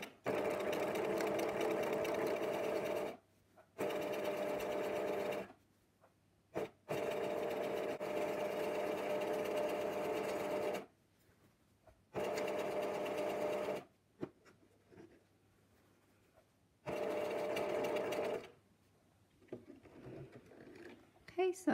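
A sewing machine with a free-motion embroidery foot stitches through quilt layers in several bursts of steady rapid whirring, each lasting a few seconds, separated by pauses with quiet handling sounds.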